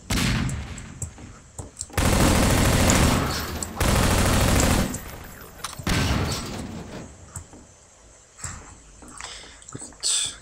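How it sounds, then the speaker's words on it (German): Explosions from a grenade and gunfire in Half-Life 2 arrive as two long, loud roaring blasts, then scattered sharp shots and softer rumbles. "Eine Granate."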